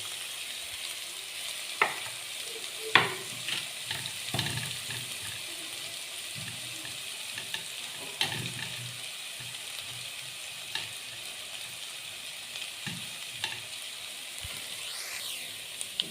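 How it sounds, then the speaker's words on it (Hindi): Garlic frying lightly in a pan, a steady soft sizzle with occasional scrapes and taps of a stirring utensil, close up, with no voices. "लहसुन को हमने थोड़ा सा ब्राउन करना है, लाइट सा ब्राउन"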